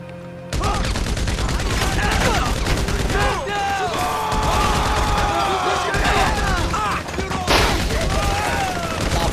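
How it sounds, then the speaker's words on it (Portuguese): Dense, loud bursts of gunfire crackle almost nonstop in GTA V, rapid volleys and echoing shots over a busy game soundscape, starting abruptly after a brief quiet moment. "Boa, galera, é tiro."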